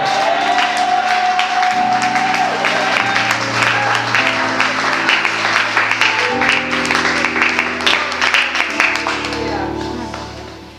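An audience at a women's church convention in Switzerland applauding the Lord, sustained clapping and cheering with music playing underneath, loud throughout and easing off at the very end.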